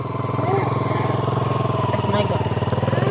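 A dirt bike engine idles and chugs with a steady, rapid pulsing thrum as the rider eases the clutch, loud and close, with a faint voice briefly audible over it.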